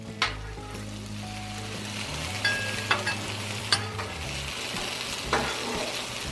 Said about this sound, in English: They're on low heat over here in this corner of the griddle.